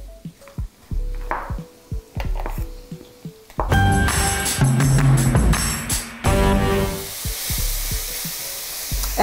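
Onion frying in a pan for a leek and mushroom pie, first with sharp spoon knocks and scrapes against the pan, then a loud, dense sizzle as mushrooms hit the hot fat, continuing with stirring clatter.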